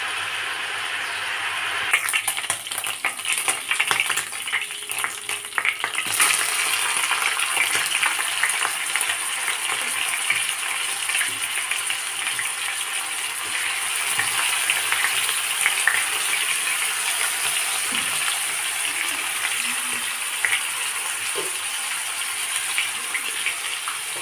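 Chicken frying in hot oil hisses and sizzles steadily throughout, a continuous close crackling with occasional sharper spits.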